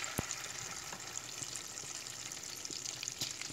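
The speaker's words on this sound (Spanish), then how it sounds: "aquí vamos a empezar a freír" Corn fritters frying in plenty of hot fat, a steady dense sizzle with scattered crackles and pops, close and continuous throughout.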